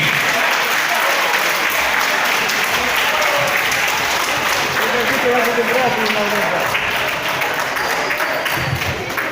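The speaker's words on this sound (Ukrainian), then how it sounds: "Аплодуємо всі" Audience applause for five-year-old wrestlers at a youth wrestling tournament award ceremony, a dense, steady wash of clapping from a crowd lasting throughout, with a voice talking faintly beneath it.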